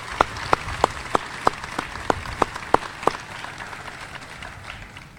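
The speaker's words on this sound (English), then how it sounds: "Give him a round of applause for that." Sharp, evenly spaced claps, roughly ten distinct hits over three seconds, ring out at a Veterans Day celebration at a cancer center, fading into quieter background afterward.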